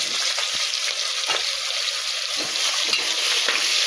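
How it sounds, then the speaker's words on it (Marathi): Onion fries in hot oil with whole garam masala spices for a prawn biryani. The hiss is loud and continuous, with occasional stirring clatter close by and no talking. "गरम मसाला भाजलाय, कांदा टाकून घेऊया."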